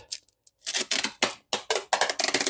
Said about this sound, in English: And then once again, you're just going to tape it closed.